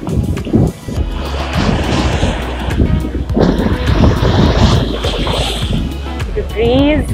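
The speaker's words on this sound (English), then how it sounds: "the sound of the waves," Lake waves wash against rocks along the William G Davis Trail in downtown Toronto, a steady, close rush and slosh that is heavily buffeted by wind on the microphone throughout.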